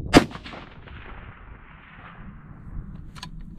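A single sharp 25 Creedmoor rifle shot at an F-Class range cracks loudly near the start, followed by a long fading rumble of echo across open ground.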